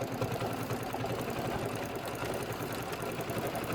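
An embroidery machine stitching a tack-down line, a steady fast mechanical whir with dense rapid needle ticking at close range, continuous and without speech.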